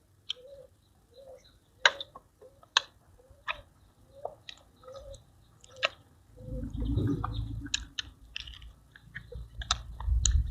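Close, wet chewing of blanched squid dipped in Thai seafood sauce, with irregular soft bites and mouth clicks spread across the clip, and a louder low rumble of handling in the latter part.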